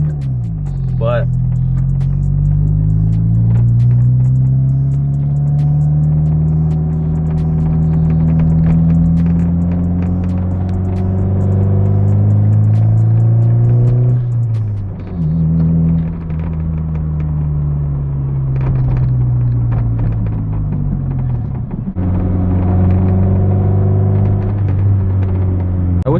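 Honda Del Sol driving with windows up, its engine a steady low droning rumble throughout that shifts in pitch with revs, with a brief dip and change around mid-run; talking can be heard over it.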